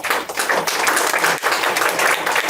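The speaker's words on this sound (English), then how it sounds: "Give him a big round of applause." An audience at a county cancer caucus event breaks into sustained applause, a steady, full wash of many hands clapping throughout with only a brief dip in the middle.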